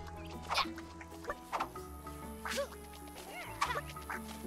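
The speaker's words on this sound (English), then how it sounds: "Oh my god, look at this fat chicken." A plump chicken in the video game New Super Lucky's Tale clucks in short, evenly spaced bursts, about four distinct clucks over a soft looping game music background.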